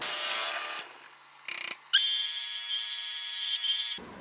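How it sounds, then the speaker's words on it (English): A power drill whirs in bursts while drilling holes in wood, starting, stopping briefly, then running steadily at a high pitch before cutting off, with no talking. "Now what I need to do is drill the holes for the port"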